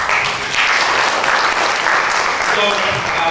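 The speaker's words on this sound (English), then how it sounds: "So a round of applause for you guys." Loud, dense clapping from an audience at a startup bootcamp session in Dhaka, continuous and close, with some voices mixed in.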